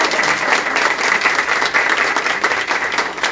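Audience applause at a school district teachers' opening-day meeting in Pawtucket, Rhode Island: steady, dense clapping from a large crowd filling the whole stretch, fairly loud and even, with no voices over it.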